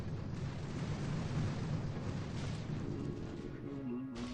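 Rockets pound a base in the mobile strategy game Boom Beach, merging into a dense, continuous rumble of explosions that barely lets up and stays low and heavy throughout.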